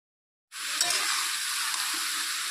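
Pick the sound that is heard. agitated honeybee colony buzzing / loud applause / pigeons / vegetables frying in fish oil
vegetables frying in fish oil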